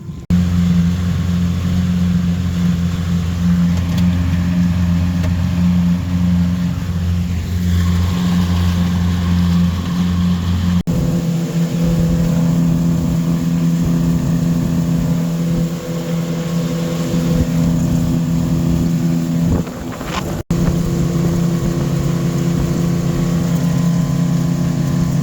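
A motorboat engine runs steadily during a propeller test, a loud continuous drone with a steady low hum and constant throttle, briefly dipping twice without stopping.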